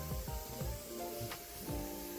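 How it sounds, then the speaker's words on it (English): A hand-pumped reptile sprayer lightly mists water into a tarantula enclosure, making a few short, soft hissing bursts close by over a steady background. "This is my reptile sprayer."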